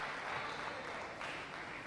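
Crowd applause at a para powerlifting world championship men's -72 kg event, a steady broadband clapping wash that holds evenly through the moment with a slight swell near the end.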